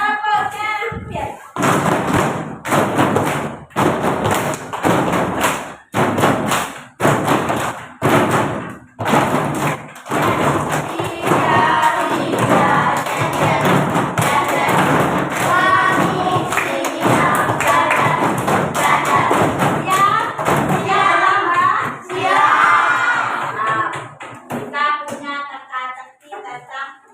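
Elementary school children in an Indonesian classroom do the tepuk champion clapping game: sharp rhythmic hand claps in quick groups, then chanting voices with more claps woven through, loud and close.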